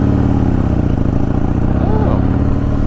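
A Harley-Davidson Softail Sport Glide motorcycle with a Stage II upgrade pulling under power: a loud, steady low engine rumble mixed with wind noise, and a voice talking over it.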